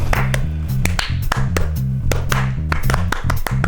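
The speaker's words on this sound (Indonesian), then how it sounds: "Sinkronkan tepukan tanganmu." Synchronized hand clapping during a party counting game, a steady run of sharp, evenly spaced claps over a low rhythmic musical backing.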